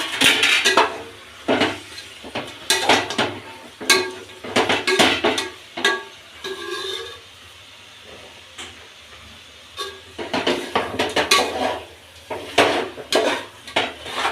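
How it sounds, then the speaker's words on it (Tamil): Chicken curry with potato is stirred in a metal cooking pot, giving loud bursts of scraping and clanking separated by brief pauses, close up, with no speech. "கறி போட்டுட்டு கிளறி விடுங்க"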